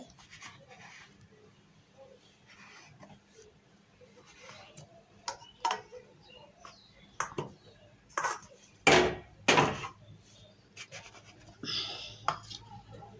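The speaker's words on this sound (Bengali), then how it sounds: "তাই যে এখন এইভাবে গোল গোল করে রুটিটাকে কেটে নেব।" Rolled dough for pitha is cut into rounds on a kitchen surface, giving a scatter of light taps and sharp clicks that grow clearer and louder midway, heard close up with no one speaking.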